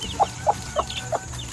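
A Red Dorking hen with three young chicks gives four soft, evenly spaced clucks, close by over faint background noise.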